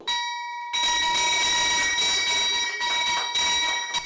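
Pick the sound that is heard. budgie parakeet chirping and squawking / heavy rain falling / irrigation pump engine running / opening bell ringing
opening bell ringing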